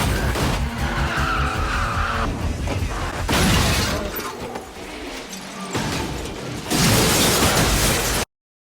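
Revving rotary car engine and squealing drifting tires from a Fast & Furious film scene, loud and continuous, with a rising high-revving whine early on and bursts of tire skid, crash-like noise and clatter.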